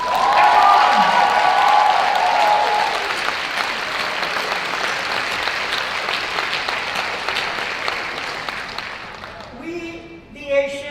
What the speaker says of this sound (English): give a big round of applause to every other woman from other continents